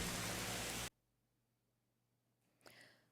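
Heavy rain pours down in Mauritius, a dense, loud hiss lasting under a second before it cuts off abruptly into near silence, with a faint brief sound near the end.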